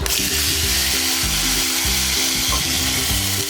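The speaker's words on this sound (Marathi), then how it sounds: "आता हे बघा कारलं आहे ना मी तळून घेते आहे तेलामध्ये" Bitter gourd slices frying in oil in a Malvani home kitchen give a steady, close sizzling hiss throughout, with a low rhythmic musical backing underneath.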